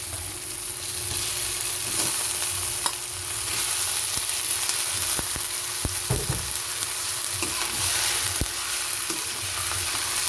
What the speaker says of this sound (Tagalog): At ilalagay na po natin ang ating pork.